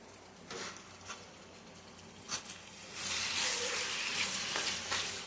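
Washed chicken goes into a hot pan, giving a few scraping clatters before a loud, steady sizzle and hiss takes over for the last couple of seconds.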